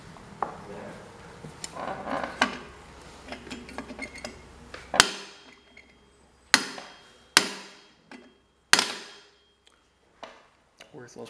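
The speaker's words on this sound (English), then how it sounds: "Because this bolt is bent, it is now just shoving it off to the side when I smack it." Hammer blows on a bent bolt of a 1978 John Deere 312 garden tractor: four sharp metallic smacks with ringing decay, spaced about a second apart, after a stretch of low workshop noise and rustling.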